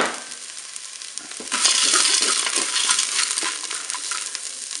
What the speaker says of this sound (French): je vais ajouter maintenant mes 100 g de farfalle